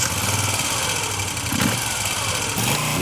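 A Moto Guzzi V7 motorcycle's engine turns over and runs, a steady close mid-pitched mechanical drone that holds loud and even throughout, with a couple of brief low bumps as it catches.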